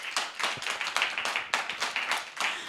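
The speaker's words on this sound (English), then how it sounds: "A round of applause again for her." A small audience claps after a performance at a pageant talk show, distinct sharp claps in an uneven rhythm, close and moderately loud, with no talking.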